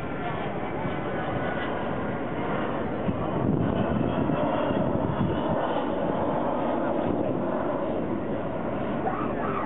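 Avro Vulcan XH558 jet bomber flying at the Bournemouth Air Festival 2009: a steady, loud broadband jet roar with a swelling rumble, heard under an announcer's talk throughout.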